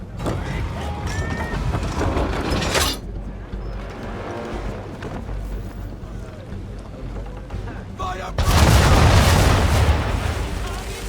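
Ship cannons in Assassin's Creed 3 fire a broadside of round shot. Deep booms roll over a constant rumble of sea and hull, and a heavy, sustained blast hits near the end.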